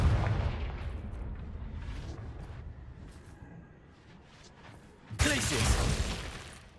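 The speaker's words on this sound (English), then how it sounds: "Confringo." A Confringo fire spell in Hogwarts Legacy fires off as a heavy explosive blast, a booming burst that decays over a few seconds before a second loud eruption hits, with faint talk in the background.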